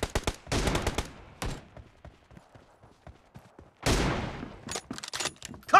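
Gunfire in a shooter video game: dense bursts of rapid shots up front, scattered single cracks through a quieter middle, then another long burst and more quick shots, loud and close.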